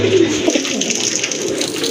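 Pigeons, including orange-coloured ones, coo softly nearby in low, throaty, repeated calls over a faint steady background hiss.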